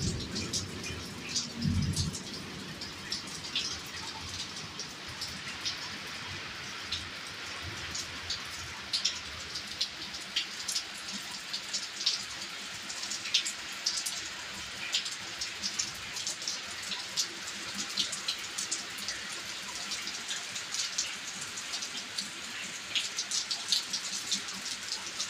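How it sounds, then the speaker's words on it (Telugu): Sudden rain falls steadily for the whole stretch, a dense crackling patter of drops on surfaces at moderate loudness with no voices. "ఏంటి వర్షం సడన్గా మొదలైంది"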